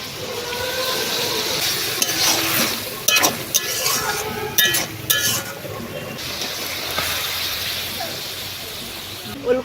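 Small fish curry with cauliflower and potato sizzles steadily in a pan in a village kitchen, with a constant frying hiss, utensil clinks and scrapes, and a voice talking over it.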